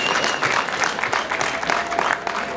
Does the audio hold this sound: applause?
yes